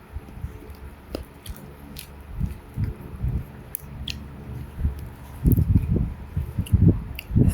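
Wet clay that has soaked in water is squished and worked by hand, making close, irregular squelching and sticky smacking sounds that come in bursts and grow thicker near the end.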